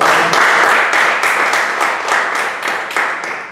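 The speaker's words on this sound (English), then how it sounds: "Can we give a round of applause?" Audience applause at a Toastmasters club meeting after an icebreaker speech: steady, dense clapping from a room of people, fairly loud and close, with no talk over it and a slight fade toward the end.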